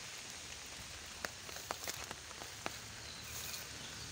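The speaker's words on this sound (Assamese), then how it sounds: "একেৰাহে 4 দিন বৰষুণে দি আছে, কোনো এৰাই নাই।" Heavy rain falling after days of nonstop downpour, a steady broadband hiss with a few sharp drips and taps scattered through it, continuous and fairly quiet with no talking.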